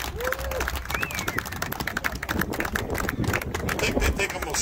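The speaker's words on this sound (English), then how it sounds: "How about a round of applause?" Applause rises at an outdoor farm auction on Labor Day after an item is sold, a broad wash of clapping from a crowd mixed with chatter and voices, fairly distant and steady throughout.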